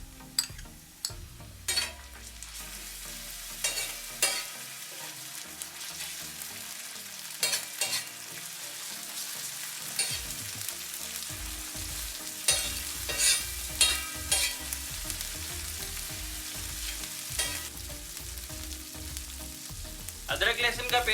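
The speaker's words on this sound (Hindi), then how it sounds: "अब इसमें शामिल करेंगे अदरक लहसुन का पेस्ट।" Ginger garlic paste frying with softened onions for tawa-style mutton keema, a constant loud sizzle broken by repeated scraping and stirring strokes of a utensil against the pan, with no talking.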